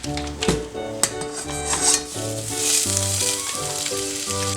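Butter sizzles in a frying pan close up, a bright continuous hiss that swells and settles, with occasional utensil clinks against the pan over a steady background hum.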